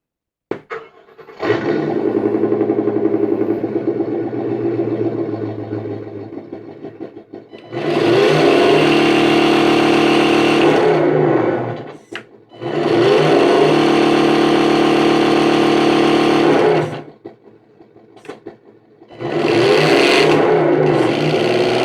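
The electric motor of a Tamiya Toyota Tundra High-Lift RC model truck with an MFC-02 unit whirs loudly during a bench test, running in three sustained bursts separated by short pauses and faint clicks, with no talking.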